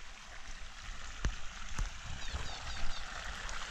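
Irrigation water flows from a pipe into a field of pigeon pea plants, a continuous gushing trickle close by, with a couple of sharp knocks partway through.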